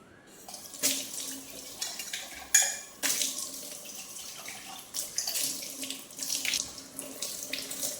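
Tap water runs as copper puja utensils are washed in a sink, a steady splashing stream broken by repeated clinks and knocks of the metal vessels, close and clear.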